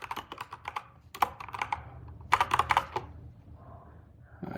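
Computer keyboard typing, close and brisk, in quick irregular bursts of key clicks with short pauses between runs, alone without talk.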